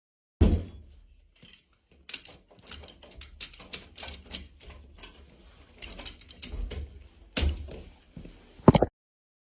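Several door locks and a chain are worked on a door in close, sharp metallic clicks, rattles and clunks, arriving in irregular bursts with short pauses between them.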